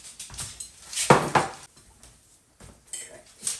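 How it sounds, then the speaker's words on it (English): Knife and fork scrape and clink against a plate while a cooked lean burger is cut up, with a few sharp metallic taps close by between quieter pauses. "I'm going to cut this up, the burger"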